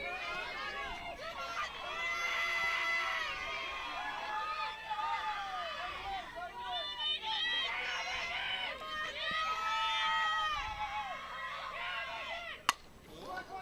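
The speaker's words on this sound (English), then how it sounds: "Definitely hear all the players cheering her on in the background." Softball players cheering a batter on from the dugout during a high-school game, an energetic chorus of young voices chanting and shouting in bursts, with a sharp crack near the end.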